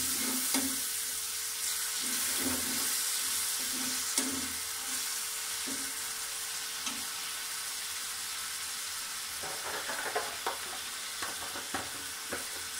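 A large tomato sizzles and fries in a pan of daal maash, a steady sizzle with a few stirring clatters and scrapes near the end, close and clear with no talking.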